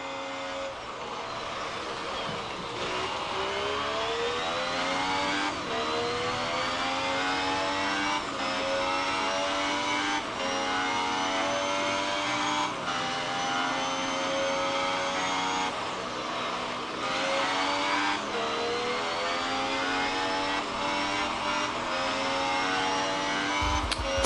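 Engine note of a car in an iPhone racing video game, rising in pitch again and again as it climbs through the gears, loud and steady throughout, without speech.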